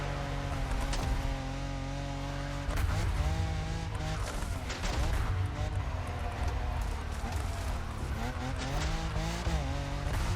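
A motorcycle in The Crew Motorfest on the Japanese touge summit road, engine revving loud and steady with tire squeal as it drifts through corners, constant game audio with no voices.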